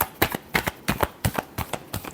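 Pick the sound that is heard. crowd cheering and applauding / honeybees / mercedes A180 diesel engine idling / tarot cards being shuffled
tarot cards being shuffled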